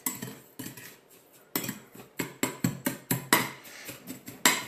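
Bath salts mixed by hand in a bowl, a spoon or utensil knocking and scraping against the sides in a steady run of clinks that speed up toward the end, close and fairly loud.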